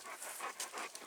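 A white dog panting close by in quick, steady breaths, heard alone for about a second.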